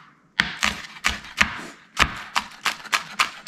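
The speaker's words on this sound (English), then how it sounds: "I wanted to chop up some green onions" Knife chopping the green tops of green onions on a board for a corn chowder topping: about ten sharp, close, evenly spaced chops, quick and steady, with no talk.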